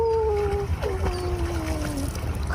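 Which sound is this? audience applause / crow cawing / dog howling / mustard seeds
dog howling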